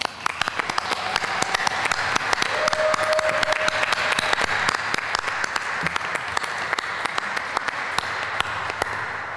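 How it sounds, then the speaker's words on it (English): Steady applause from a church congregation at a Sunday morning service fills the space, dense clapping continuing evenly and loudly for several seconds with no talk over it. "Now you may applaud."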